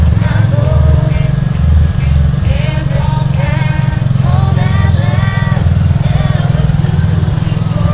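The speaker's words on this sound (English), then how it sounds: "Pastor Tim Jones driving the lawnmower dressed up as a train there." A riding lawnmower dressed up as a train chugs steadily and loudly throughout a small-town festival parade in Wellston, Ohio, with harmonic whines and crowd chatter mixed in.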